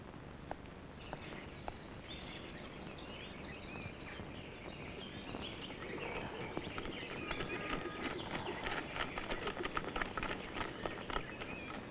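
Horse hooves clip-clopping at a steady pace as the horse is ridden, faint and continuous under outdoor noise, with birds in the background.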